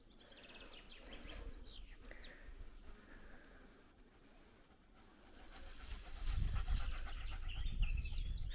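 A dog pants close by in a shaded outdoor spot, with breathy rasping growing louder toward the end while birds chirp steadily in the background.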